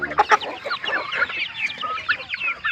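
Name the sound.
chickens clucking on a mini farm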